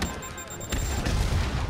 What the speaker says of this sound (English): Oh, that was a rocket.